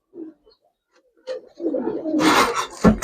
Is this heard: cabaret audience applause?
no